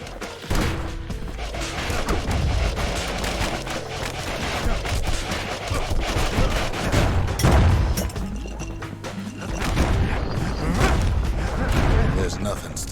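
Heavy gunfire from the Ura's big guns in the game Bastion: dense volleys of booms and crashes pounding on for several seconds, loud and close, with a narrator's voice over them.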